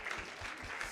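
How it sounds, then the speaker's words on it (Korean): A church congregation at a Christmas Sunday service claps together in a short burst of steady, soft applause that fills the room. "박수로 한번 격려해 드리도록 하겠습니다"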